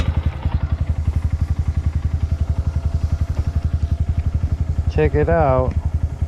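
A Honda motorcycle engine idles close by with a fast, even pulsing beat, held in first gear with the clutch pulled; someone speaks briefly near the end over it.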